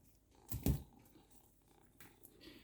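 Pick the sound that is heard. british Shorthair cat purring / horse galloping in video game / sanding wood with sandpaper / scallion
british Shorthair cat purring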